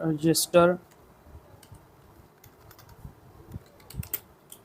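Soft keyboard typing while code is written for a JavaScript project with async and await, faint scattered clicks and taps after a short burst of speech at the start.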